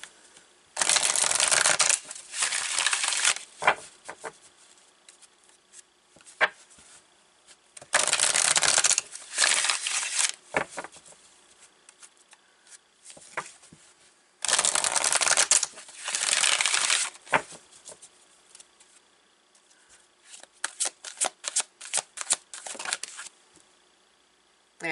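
Tarot cards are shuffled close up in several distinct bursts of crisp riffling and flapping, separated by quiet pauses with softer card handling between them.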